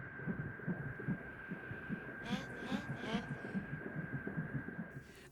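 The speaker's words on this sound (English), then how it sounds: "I made some heartbeats on a synthesizer" Heartbeats made on a synthesizer thump in a soft, regular low pulse under a faint steady hum, with a brief breathy rush partway through, quiet and close.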